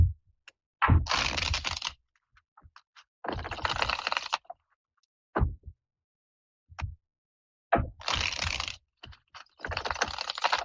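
Tarot cards shuffled in several quick riffling bursts, each crisp flutter lasting about a second, separated by pauses and a few soft taps, close up.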